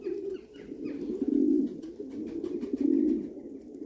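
Homing pigeons coo close by in soft, low, repeated rolling calls that swell and fade in a steady rhythm, with no talking.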